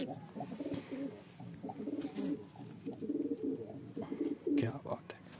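Golden teddy pigeons coo in repeated low, rolling phrases close by, with rustling and a voice in the background.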